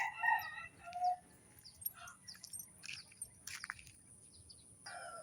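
Free-range country chickens foraging outdoors, with a rooster's crow rising at the start and again near the end among scattered clucks and bird calls, faint and somewhat distant.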